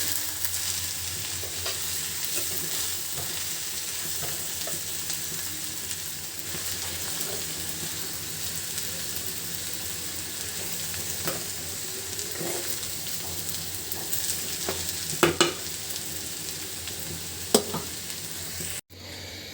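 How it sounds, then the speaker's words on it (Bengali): Potatoes fry in a pan for bhaji with a continuous close sizzle, joined now and then by soft stirring scrapes and a couple of sharper clinks near the end. "আলুটা ভাজি বানাচ্ছি।"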